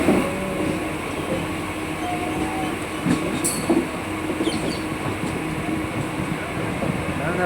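A passenger train bound for Mandya rumbles along with a steady carriage hum and rattle, occasional metallic squeaks and clicks from the wheels, and faint people's voices in the background.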